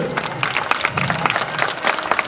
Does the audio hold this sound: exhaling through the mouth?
no